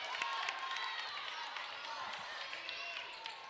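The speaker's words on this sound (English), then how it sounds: "Waking up this crowd a bit." A high school girls' basketball crowd in a gym cheering and clapping after a three-pointer, a faint, steady swell of distant applause and voices with a play-by-play commentator talking over it.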